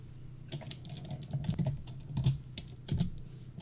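Keys clatter on a computer keyboard during AutoCAD drafting, a quick run of soft clicks in several bursts, close and fairly quiet, with no talking.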